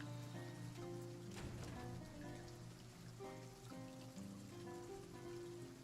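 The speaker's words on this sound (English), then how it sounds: "It's raining?" Rain falling in Silent Hill 2 Remake, a faint, steady patter underneath sustained tonal music.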